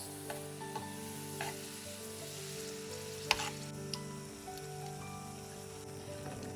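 Minced meat is stirred in a sizzling frying pan, with a steady crackling hiss broken by occasional scrapes and clicks of the utensil against the pan.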